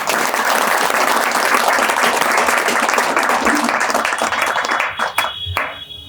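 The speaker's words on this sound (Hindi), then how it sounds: "ताली लगे इस पे।" An audience at a spiritual talk bursts into loud, dense applause that holds steady for several seconds, then thins into scattered claps and fades.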